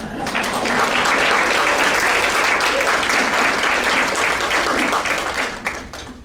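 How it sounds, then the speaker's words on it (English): A crowd applauds at a Women of Distinction awards ceremony dinner. Dense, loud clapping fills the room evenly for about six seconds before tapering off at the end. "maybe we can at least give her a round of applause"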